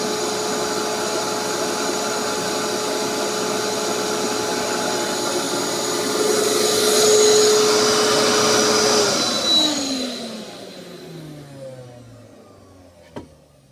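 A wood lathe spinning a large, out-of-true bowl at 280 rpm on a homemade vacuum chuck, with a steady electric motor and pump whine and hum that swells, then winds down and fades to near silence, ending with a faint click.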